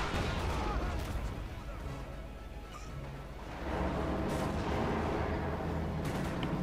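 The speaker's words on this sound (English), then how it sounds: "Artillery firing." Artillery barrage in the Company of Heroes 2 real-time strategy game, a dense, continuous rumble of booming fire and blasts that swells louder midway, with commentary talk over it.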